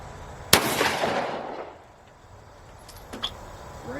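An AK-style shotgun fires a single loud, sharp blast that booms and decays over about a second outdoors, followed by quiet and a faint metallic click of the action.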